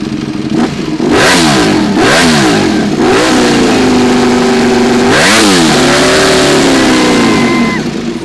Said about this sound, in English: there's a little Lancia Stratos arriving just over there now